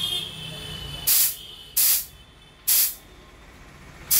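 A soda maker machine carbonates a PET bottle with four sharp, evenly spaced bursts of hissing gas over a quiet background hum.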